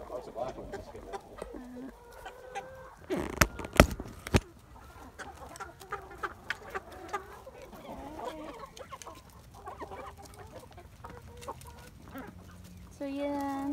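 Chickens, including black hens, cluck steadily on a farm, a scatter of soft near clucks and calls over light outdoor ambience with occasional louder clucks.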